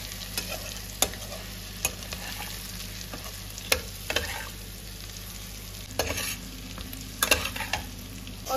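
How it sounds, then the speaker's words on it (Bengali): Ground spice masala of salt, turmeric, coriander powder, Kashmiri red chili powder and meat masala is stir-fried in a pan, with a soft sizzle broken by repeated sharp scrapes and clanks of a spatula, no voices. "এবার আমি এই মশলাটাকে ভালো করে কষাবো"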